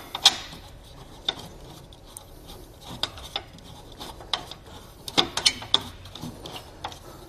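A Hollywood Racks Destination four-bike hitch rack is folded up and its knob screwed back in: scattered ratcheting clicks, metallic clunks and scraping rubs, close and moderately loud, with no talking.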